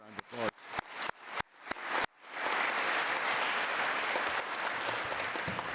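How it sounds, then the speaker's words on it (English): An audience gives a full, sustained round of applause for World War II veterans at a national civics bee championship. The clapping swells in after a series of sharp percussive hits and holds loud and even, with no voices over it. "Give them a round of applause."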